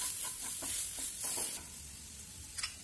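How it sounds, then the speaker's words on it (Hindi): Gram flour (besan) roasting over a low flame with a soft, steady sizzle and a few light rhythmic stirring scrapes, close and low in level, without any talk. "इसको धीमी आंच पे ही हम भुनेंगे"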